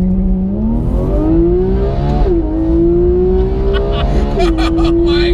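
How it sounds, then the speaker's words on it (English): A Porsche GT3 launches and accelerates hard, its engine wailing up through the revs with quick gear shifts, loud and close from inside the cabin, with passengers exclaiming over it. "that is the first time I've been on board a GT3 when it's properly wound out"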